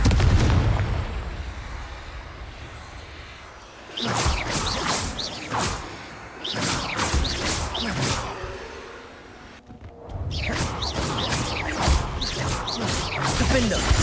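Confringo fire spells blasting in Hogwarts Legacy: bursts of fiery explosions and crackling impacts come in clustered volleys separated by short lulls, loud and booming against a rumbling game backdrop.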